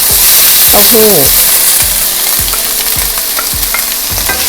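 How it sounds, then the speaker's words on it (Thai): Vegetables and mushrooms stir-fry in a hot pan, a loud, constant sizzle broken by regular scraping strokes of a spatula roughly every half second. "ผัดทุกอย่างให้เข้ากันเลยนะคะ อันนี้ ใส่เห็ดก็ก็ผัดทั้งหมดอะคะ่ะ"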